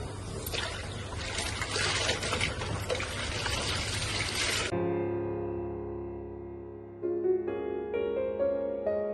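Water from a submersible pump gushes loudly for several seconds, then cuts to a calmer filling sound with a rising tone as the container fills. The sound is near and there is no talk.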